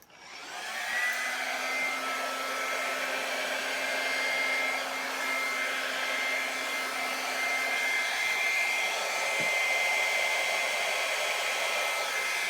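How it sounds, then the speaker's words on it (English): A hair dryer blows steadily at close range, a continuous loud whooshing hum that runs unbroken from start to finish. "now we're going to take the blow dryer"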